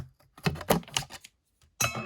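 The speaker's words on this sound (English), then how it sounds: "We're going to pull out the scissors here." Scissors snip and saw through packing tape sealing a Pokemon card box, a few short crisp cutting and crackling bursts with a pause before a final louder stretch.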